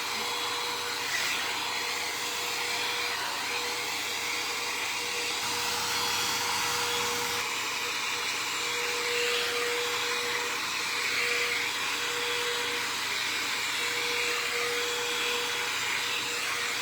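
A blow dryer drying hair roars steadily and close for the whole stretch, an unbroken whooshing hiss with no one talking.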